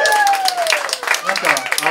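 An audience claps during a Groove Squad live show at a small venue, with a dense patter of hands throughout and a voice speaking over the applause.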